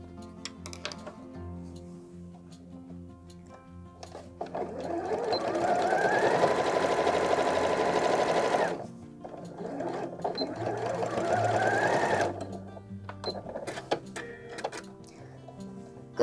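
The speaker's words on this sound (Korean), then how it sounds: "나머지 부분만 1cm 시접으로 박음질을 해주시면 됩니다." A sewing machine stitches a 1cm seam on a fabric envelope pouch, two sustained bursts of steady whirring and needle clatter separated by a pause, close and loud, with handling clicks between runs.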